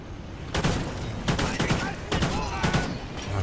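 AK-12 rifle gunfire in the Call of Duty Ghosts Extinction mode, loud repeated bursts of shots in quick succession over a steady game background.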